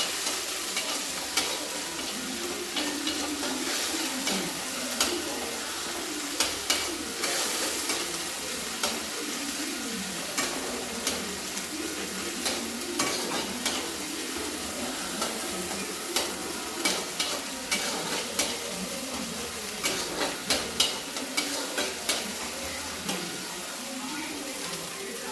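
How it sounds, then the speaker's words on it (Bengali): Chopped onion lightly frying in a pan for a chili momo dish, with a constant hissing sizzle and frequent scraping stirs and light clinks of a utensil against the pan, close and continuous. "পেঁয়াজটা আমি হালকা করে ভেজে নেবো"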